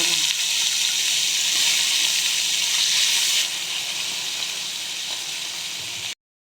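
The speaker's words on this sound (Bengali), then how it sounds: "সর্ষেটা চুটুর পুটুর হয়ে গেলে, মানে ভাজা হয়ে গেলে, আমি এবার এর মধ্যে দিয়ে দেবো উচ্ছেগুলো ভেজে নেব" Bitter gourd frying in a pan of hot oil with mustard seeds gives a steady, close sizzling hiss that eases slightly before cutting off.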